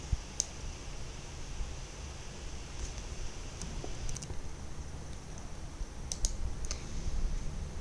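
Computer keyboard typing while entering codes in Smartbiz Acc accounting software: quiet, irregular clusters of key clicks over a soft background hiss.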